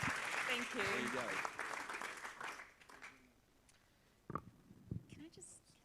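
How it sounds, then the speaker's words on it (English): Applause from the audience at a national schools F1 awards event rises loudly with a voice talking over it, then fades after a couple of seconds into near quiet with scattered speech. "Oh, I got a round of applause."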